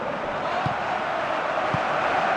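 A stadium crowd in the football game Pro Evolution Soccer 2016 roars as a steady, broad wash of massed voices, with a couple of faint low thumps under it.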